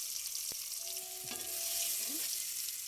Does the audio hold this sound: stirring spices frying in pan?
yes